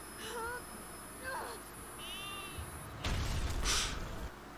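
A goat bleats in a few short, wavering cries amid noisy animated-show audio, with voices and other sound effects mixed in around it.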